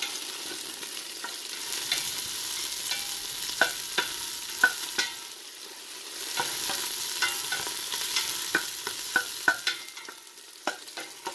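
Onion and garlic frying in a pan with light stirring: a soft, steady sizzle and crackle, plus scattered clicks and scrapes from a utensil on the pan, with no voices.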